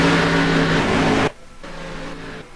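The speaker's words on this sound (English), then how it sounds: "You still hear the car running" A race car in a stock-car racing video game at Kansas runs loud at first, then cuts abruptly to a quieter, steady engine drone after slowing, still audibly running.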